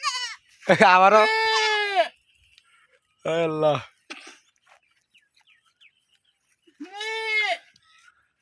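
A man imitates a goat's bleat, giving three loud, wavering bleat-like calls with pauses between them, with a few words spoken in between.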